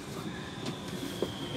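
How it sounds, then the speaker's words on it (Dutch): An Amsterdam metro M53 sneltram runs with a steady rolling rumble and a faint high whine, with a brief clank partway through and no voices. "Ja, een metro sneltram."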